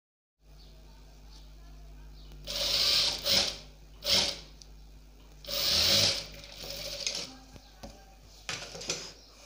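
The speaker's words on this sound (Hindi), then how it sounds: "लगाते हैं स्टिच सिलाई" A sewing machine stitches a kalidaar angrakha-style frock, running in several short whirring bursts with rattling mechanical clicks between them, close and fairly loud against a low hum.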